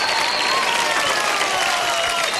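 Loud, sustained applause from an awards show audience, dense clapping with crowd noise and faint cheering throughout.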